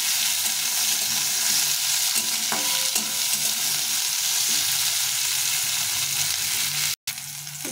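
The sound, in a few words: bitter gourd (karela) frying in hot oil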